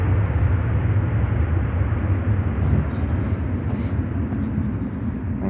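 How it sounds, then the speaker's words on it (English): An Embraer 170 airliner arriving at Chicago O'Hare makes a loud, continuous low jet roar. It stays steady throughout and carries a faint high whine above it. "Next arrival is another Embraer."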